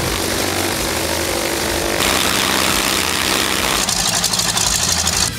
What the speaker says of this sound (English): You can experience it with the real roaring of the engine instead of a downloaded library sound.